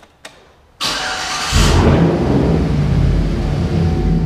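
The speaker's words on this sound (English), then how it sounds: "Let's get ready to hear that exhaust." A used GMC Sierra pickup's engine cranks briefly, then catches and fires up into a loud, steady idle with a deep exhaust rumble that continues to the end.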